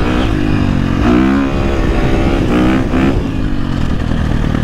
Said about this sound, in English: I put it in second and just barely roll the throttle on